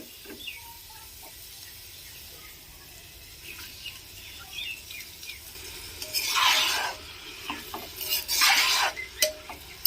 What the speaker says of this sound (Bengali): এবার চালটা দিয়ে আরও আমি 2 মিনিট নেড়ে নেবো ভালো করে।